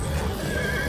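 A horse in the Minecraft Story Mode video game neighs in a loud, brief whinny over a low rumble of game ambience, with no voices.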